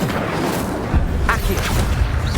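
An Incendio fire spell is cast in Hogwarts Legacy, a loud whooshing boom with a burst of crackling rumble that fills the space.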